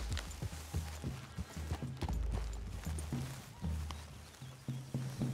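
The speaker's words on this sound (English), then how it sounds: "Get back on the horse." Horse hooves clip-clop in a steady rhythmic gait in the video game Red Dead Redemption 2, close and clear, with faint background ambience and no talking.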